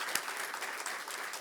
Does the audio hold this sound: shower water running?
no